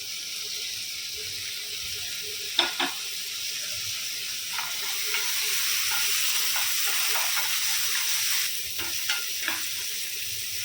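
Tomatoes sizzle and crackle in a hot pan for a farsan-style shev bhaji, with a few sharp scraping stirs and a steady frying hiss.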